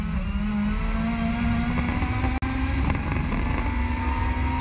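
Engine of a 2017 WTCC touring car on a Nordschleife hotlap, a loud steady in-car drone with wind roar and one sharp momentary dropout.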